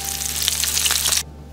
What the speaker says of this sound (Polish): Smażymy go przez około 6 minut z jednej strony, aż stanie się złoto-brązowy.